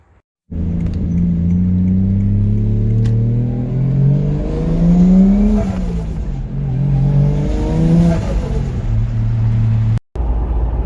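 A car engine at night drives and revs loudly and steadily close by, its pitch climbing and falling through repeated gear changes for about nine seconds before cutting out abruptly near the end.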